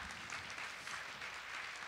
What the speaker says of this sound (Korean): 다시 한번 작가님께 큰 박수 부탁드립니다